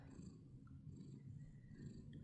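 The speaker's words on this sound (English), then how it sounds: "She's purring and relaxing, settling down for a nice nap." A cat purrs softly and steadily up close in a quiet room, the low rumble pulsing with each breath and nothing else around it.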